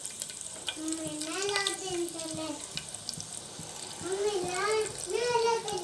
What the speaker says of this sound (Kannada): ಸ್ವಲ್ಪ ಸಾಸಿವೆ ಒಂಚೂರು ಕರಿಬೇವು ಕ್ರಷ್ ಮಾಡಿ ಹಾಕೊತೀನಿ